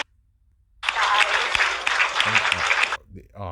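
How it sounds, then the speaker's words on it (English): An audience breaks into loud applause and cheering for about two seconds, dense clapping close up that stops abruptly, followed by a voice. "Let's clap it up for her, baby."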